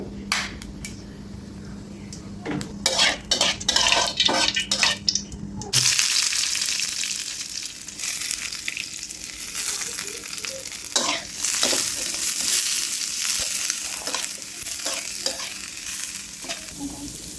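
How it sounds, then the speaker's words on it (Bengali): Nigella seeds are tempered in a well-heated pan for a thankuni-leaf bhorta. A few close stirring clinks come first, then a sudden loud sizzle erupts and keeps crackling steadily. "পাত্রটা ভালো করে গরম করে নিয়েছি এখন একটু কালো জিরা ফোড়ন দিয়ে দিচ্ছি"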